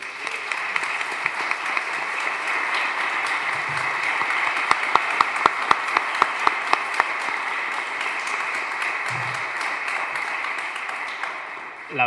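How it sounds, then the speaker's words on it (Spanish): An audience in a legislative hall applauds steadily for three speakers, with a run of sharper individual claps standing out midway and faint voices mixed under the clapping. "Quiero pedir un aplauso para los tres"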